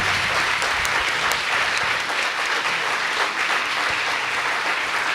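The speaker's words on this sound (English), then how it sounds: "Let's give him a round of applause." An audience at a Startup Grind entrepreneur event in Wichita applauds in a steady, full round of clapping that holds at an even level from start to finish, with no talk over it.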